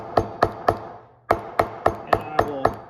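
A smooth hammer taps a stitched leather dog leash on a workbench, with about ten sharp, close strikes in a fairly even rhythm and one brief pause partway through.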